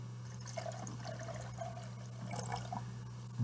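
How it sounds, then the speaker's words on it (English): Two chemical solutions poured together for a catalyst demonstration, giving soft liquid trickling and pouring sounds over a steady low hum, fairly quiet and close, with no talking. "When I mix the two solutions together"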